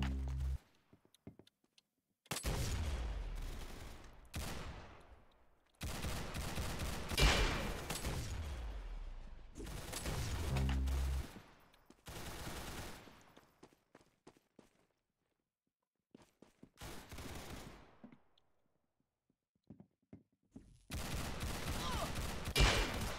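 Bursts of gunfire in a Roblox game come in several loud, dense volleys separated by short silent gaps, each burst of rapid shots fading out before the next begins.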